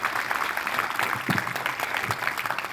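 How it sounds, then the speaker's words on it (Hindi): Audience clapping after a meditation session, a dense steady patter of hands at moderate level, continuous for a few seconds with no voices over it. "आपको ये ध्यान अच्छा लगा है तो मेरे लिए तालियां बजाइए"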